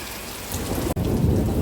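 Heavy rain pours steadily through a thunderstorm, dense and close, with deep thunder rumbling underneath and a brief cut in the sound partway through.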